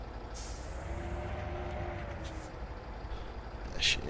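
Lorry air brake in the off-road truck game Spintires: MudRunner, a sharp hiss bursting near the end over a steady low engine rumble.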